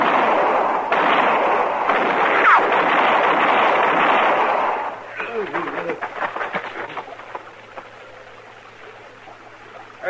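A western radio drama shootout, with a dense burst of gunfire filling the first five seconds, then scattered sharper shots and crackles trailing off.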